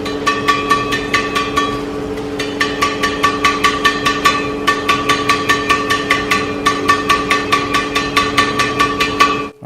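Victor badminton racket strung with VS66 string, crosses at 29 lbs, tapped on the strings in a fast, even run of about thirty crisp ticks over a steady low hum, with one brief pause early on.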